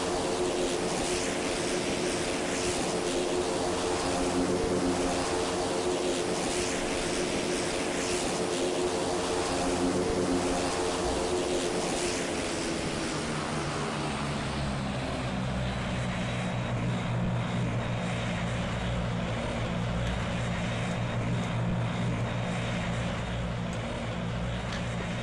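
A propeller airplane in the PTFS game drones loudly and continuously in flight, its engine roar thinning into a lower, steadier hum about midway through, with no talking.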